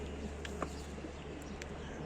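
A pigeon coos softly once or twice against a steady low background hum, fairly faint and close by.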